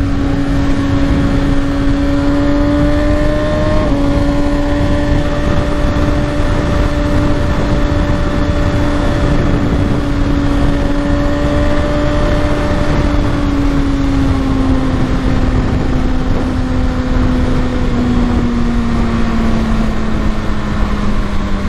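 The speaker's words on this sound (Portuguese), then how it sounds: "Nossa, o barulho dessa moto é doido demais." Kawasaki ZX6R KRT sport motorcycle engine running steadily near, a sustained tonal engine note that rises slightly and then gradually falls over about twenty seconds, with no talk.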